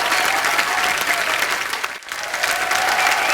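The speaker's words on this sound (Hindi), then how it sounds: "तालियां जोरदार होनी चाहिए।" Studio audience on a comedy talk show applauds loudly and steadily, a dense wash of clapping that dips briefly in the middle before swelling back to full strength.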